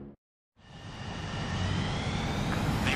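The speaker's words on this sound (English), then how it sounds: "So the liaison plane left without me." Fixed-wing liaison plane taking off in the Ace Combat 7 combat flight game, a steady engine roar that swells after a brief silence and holds loud and broadband to the end, with no voices.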